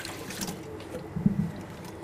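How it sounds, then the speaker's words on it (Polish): Lukewarm water is poured into a bread dough trough, giving a soft, close trickle and splash that runs the whole time, with a brief louder gurgle partway through. "Dolewam wody letniej."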